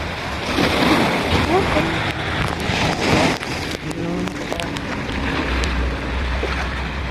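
Sea waves wash and splash around a small boat in a steady, close rush of water, with people talking intermittently over it.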